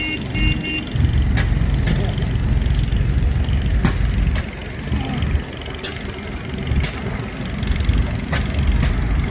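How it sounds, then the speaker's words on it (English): A 1941 Farmall 8 tractor engine runs steadily at an outdoor show, a continuous low mechanical rumble with sharp clicks and knocks breaking through, crowd noise faintly around it. "1941 Farmall 8. This is owned and driven by Bruce Lyrick in Sturgis."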